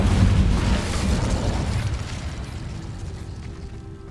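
An Incendio fire spell in Hogwarts Legacy bursts with a loud, close whoosh and boom that rumbles low, then slowly fades over a few seconds, with no talk.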